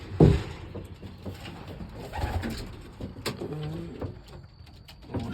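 Male pigeon cooing to call its mate from a high perch, soft throaty coos rising and falling over several seconds against background rustle and a sharp knock near the start.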